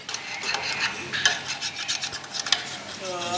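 Screwdriver scraping and rasping over a Swift Dzire AC part being cleaned with kerosene, a series of close, gritty strokes in an uneven rhythm, moderately loud, with no talk.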